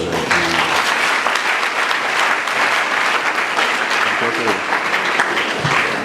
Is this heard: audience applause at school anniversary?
yes